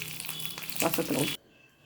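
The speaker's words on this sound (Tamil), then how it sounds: "கொஞ்சம் வெந்தயம் விட்டு ஆஃப் பண்ணிவிட்டு கருவேப்பிலை போட்டு அதை அப்படியே எடுத்து இதில் ஊற்றிடலாம்" A hot tempering of mustard seeds, fenugreek and curry leaves is poured into chicken rasam, giving a short burst of loud, close sizzling that stops abruptly after about a second.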